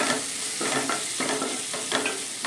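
Chilli powder sizzles in a pan for a village-style anchovy curry, a dense, even frying hiss punctuated by soft, regular stirring strokes heard up close.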